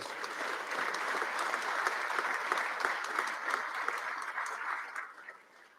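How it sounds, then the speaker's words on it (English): An audience applauds during a governor's State of the State address in Louisiana, a steady wash of clapping at moderate level that thins and fades toward the end. "Give yourselves a round of applause."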